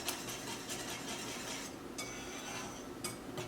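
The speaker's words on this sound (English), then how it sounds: "So here's our 1/4 cup of melted butter. Go ahead and whisk that in." Whisk working melted butter into a pumpkin treat mixture in a bowl, rapid light clinking and scraping of metal against the bowl with a few sharper taps, close and steady, with no talking.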